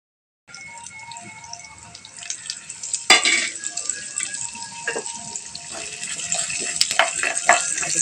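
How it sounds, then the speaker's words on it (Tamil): Urad dal drops into hot oil in a pan and sizzles steadily, with a sharp clatter as it goes in and a crackling hiss that builds and continues, close and fairly loud. "இப்போ ஒரு பேனில் 2 ஸ்பூன் எண்ணெய் ஊற்றிக்கணும்"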